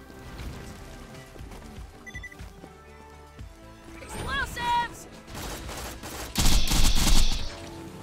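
A Dahl Sand Hawk gun firing in the shooter Borderlands-style game against Emperor Spiderants, several sharp bursts scattered through busy game sound with creature shrieks, the loudest volley near the end; a person talks over part of it.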